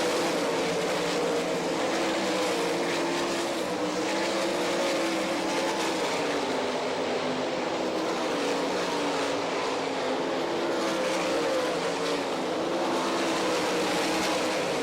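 World of Outlaws sprint cars race through lapped traffic at Rossburg, Ohio, in 2002, a loud, continuous, dense engine roar from several cars that holds steady throughout.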